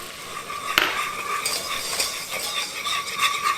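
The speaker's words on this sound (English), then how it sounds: "Cook the flour with the butter until the floury taste gone" Flour stirred into melted butter in a pot, a gentle close sizzle with brisk scraping strokes and one sharp utensil knock early on.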